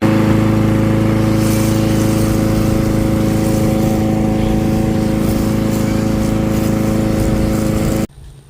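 Lawn mower engine running steadily while mowing grass on a small homestead plot, a loud, close, constant drone with a strong low hum that drops off sharply near the end.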